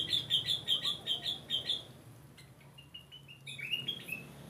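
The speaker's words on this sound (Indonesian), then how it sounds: "Di sana ada beberapa burung yang lagi beraktivitas. Ada burung manyar tuh." Weaver birds in an aviary give rapid, repeated high chirps in a quick rhythmic burst, pause, then break into a second flurry of sharp tweets over soft background rustle.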